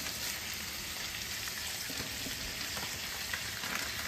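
Red onions, garlic and spring onions fry in a pan with a quiet, steady sizzle that runs the whole time, with a few soft stirring scrapes partway through.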